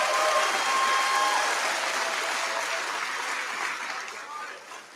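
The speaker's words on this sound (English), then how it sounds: "let's give them a round of applause for their accomplishment" Loud applause from a graduation audience for honor students, dense clapping filling the room from the start and tapering slightly toward the end.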